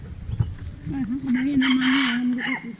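A single fowl gives a drawn-out, steady call close by, rising out of quieter background noise and trailing off near the end.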